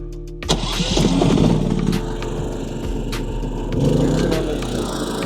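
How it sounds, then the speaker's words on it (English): A generator engine cranks briefly and catches, then settles into a loud, steady mid-pitched running drone close by, with a slight surge partway through. "Make sure that's the generator."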